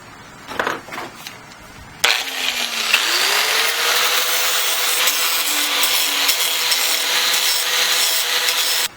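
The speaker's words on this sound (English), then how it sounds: "we're going to break out the grinder. I use the grinder because I can get a lot of metal off real fast." A handheld grinder cuts into metal on a motorized bicycle part during rag joint installation, opening with a few scraping touches before settling into a loud, steady whine that holds for about seven seconds and then stops abruptly.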